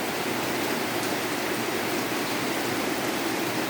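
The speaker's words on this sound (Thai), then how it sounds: "ตกแล้วก็หยุดแล้วก็ตกนะคะหยุดได้แป๊บเดียวก็ตกอีกอะค่ะเหมือนพายุ" Heavy rain pours during a storm as a dense, unbroken hiss of drops, loud and uniform from start to finish with no voices.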